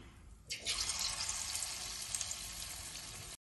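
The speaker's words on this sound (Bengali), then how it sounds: "তেলটা গরম হয়ে গেছে, এবারে আমি চিকেনগুলো পকোড়াগুলো ভেজে নেব" Chicken pakoras go into hot oil in a pan and set off a sudden, steady crackling sizzle that holds close and even for about three seconds before stopping abruptly.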